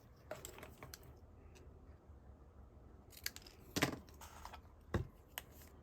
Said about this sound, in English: I'm just going to use the little bit that flew off as a guide to know where to cut my piece of cardstock.